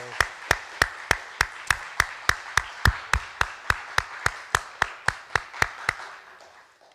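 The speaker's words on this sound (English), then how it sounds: "I think you deserve a very large round of applause" Audience clapping at the close of a conference session: a steady, evenly spaced run of about twenty sharp claps that stops abruptly and leaves a short fading tail.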